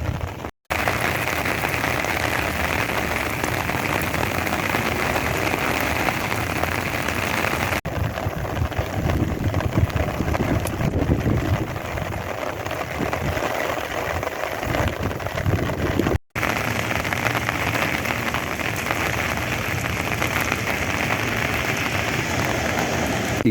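Heavy rain pours down during a desert thunderstorm, a dense and continuous loud hiss of drops hammering surfaces that carries on without letup apart from a couple of brief cuts.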